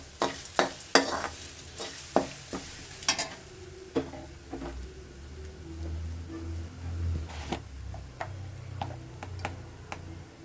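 Ivy gourd stir fry with mustard seeds and masala being stirred in a pan, with a steady low sizzle beneath repeated sharp taps and scrapes of the spoon against the pan, close and fairly quiet.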